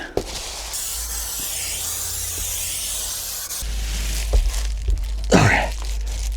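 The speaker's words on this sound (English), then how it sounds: "I got some more spray adhesive. I got a bigger can." An aerosol can of spray adhesive sprays in a long continuous hiss, stops, then gives a few shorter bursts amid low rumbling and handling noises.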